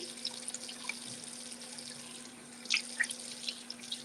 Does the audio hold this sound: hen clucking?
no